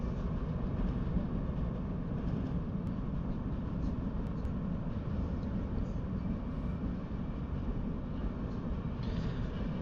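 A train runs steadily in a Just Trains railway simulator game, giving a continuous low rumble and rolling wheel noise with no pauses, moderately loud and without voices.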